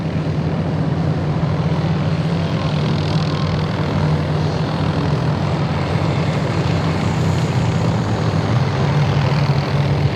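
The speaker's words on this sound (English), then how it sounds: "here comes the MD-530G helicopters to conduct flank protection for the tank heavy column" MD-530G helicopters fly during a military firepower exercise, their steady rotor and engine drone holding constant and fairly loud for ten seconds, with no voices.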